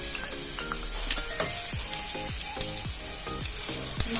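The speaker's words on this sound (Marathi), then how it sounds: "छान हे तेलात परतून घ्यायचे" Ground spice paste and curry leaves sizzling in hot oil for Maharashtrian patvadi, a loud continuous hiss and crackle with repeated spatula scrapes, close up.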